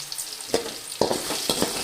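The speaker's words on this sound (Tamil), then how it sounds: "நல்லா பச்சை வாசனை போகிற வரைக்கும் வதக்கிக்கலாம்" Ginger garlic paste sautéing in a hot pan: close sizzling with a few sharp stirring scrapes at regular intervals, brief and busy.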